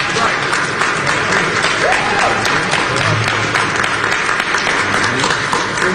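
An audience breaks into sustained clapping, a thick, even wash of many hands at full strength from start to finish, with faint crowd murmur underneath.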